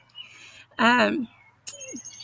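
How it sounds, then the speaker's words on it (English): Birds chirp outdoors in a couple of short, fairly close bursts with quiet gaps between them, over faint background hum. "I hear the birds, because we really do."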